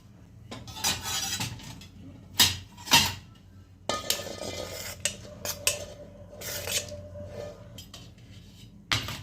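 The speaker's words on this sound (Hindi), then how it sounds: "चावल को हम अच्छे से पतीले में फैला देते हैं।" A metal utensil scrapes and clinks against a cooking pot while rice is spread out for veg biryani, with irregular sharp knocks and scraping strokes up close and a faint background hum.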